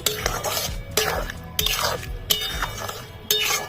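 Apple chutney sweetened with jaggery and sugar being stirred in a pan, a spoon scraping and clinking against the metal in repeated strokes, close and fairly loud.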